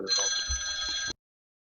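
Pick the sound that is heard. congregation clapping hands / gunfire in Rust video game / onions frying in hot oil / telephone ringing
telephone ringing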